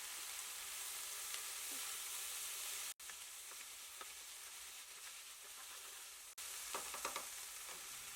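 Diced tomatoes and vegetables for Nepali pasta cook in a pan with a steady, fairly soft sizzle and faint crackles, broken by two brief dropouts, and no voices.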